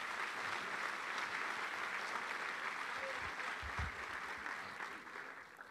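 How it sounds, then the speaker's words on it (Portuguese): Church congregation applauding during a sermon, a steady, dense wash of clapping from a large crowd, moderately distant, sustained for several seconds before easing slightly at the end. "Aplauda o seu se você quer ser uma bênção."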